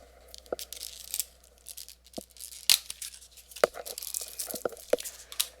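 Marvel Champions card pack wrappers being torn open, a series of short sharp tearing and crinkling snaps at irregular intervals over faint background hum, close by.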